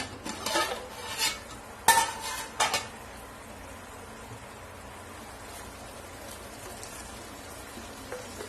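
A few metallic clanks of a lid on a pot of chicken biryani masala, close by, followed by a steady soft bubbling simmer.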